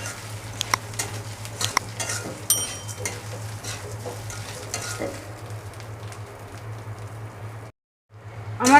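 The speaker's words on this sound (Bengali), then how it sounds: "ডালটাকেও একটু ভেজে নেব।" Urad dal frying in a pan, a steady close sizzle with occasional clinks of a utensil against the pan, briefly cut off near the end before resuming.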